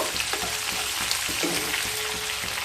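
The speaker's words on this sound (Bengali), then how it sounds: "চিংড়ি মাছগুলোকে ভেজে নিয়ে তারপর ফিরে আসছি" Peeled shrimp fry in hot oil, producing a dense continuous sizzle with light bubbling crackles and faint stirring clicks, close and steady with no talking.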